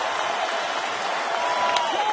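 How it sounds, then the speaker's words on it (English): Crowd at a Major League Baseball game, Cleveland at Detroit in 2010, rising in a steady, continuous roar of cheering and applause that fills the stadium throughout, with no pauses. "Here comes the crowd now."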